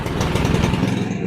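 A cold lawn mower that would not start after winter runs at high revs right after starting, a loud, close, fast-pulsing buzz that cuts off near the end.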